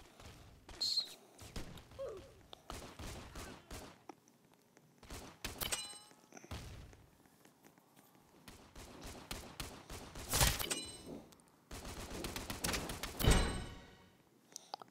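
Revolver shots crack in a mobile shootout video game, coming as scattered sharp bursts with gaps between them, mixed with other quick game sounds and clicks at moderate loudness.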